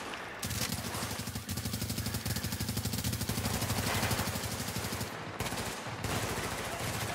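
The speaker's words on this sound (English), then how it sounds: "Who's shooting me from the back?" Rapid automatic gunfire rattles in a shooter video game, a long, steady stream of closely spaced shots that breaks off briefly twice near the end before resuming.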